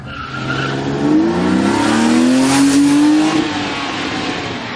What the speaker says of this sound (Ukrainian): Тепер двохлітровий бензиновий двигун розганяє цю лялечку до 200 км за годину.